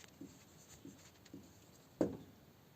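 Writing on a board to note transactions, soft scratchy strokes in a slow sequence ending with one firmer tap, faint and close with no voices.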